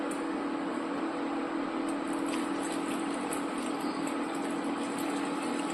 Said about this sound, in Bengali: মাংস সিদ্ধ করার যে জলটা আছে এটা আমি প্রথমে দেব।